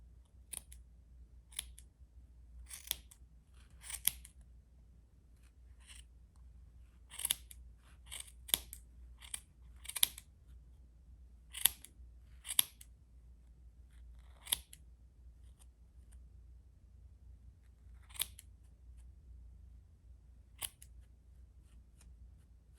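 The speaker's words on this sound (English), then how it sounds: "Now I have to cut these." Scissors snip repeatedly in a quiet room, sharp close cuts in irregular clusters with short pauses between, over a low steady hum.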